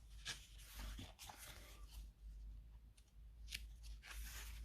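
Pages of a Godzilla vs Power Rangers comic book are turned by hand, giving quiet papery swishes and crisp flicks at irregular intervals over a low background hum.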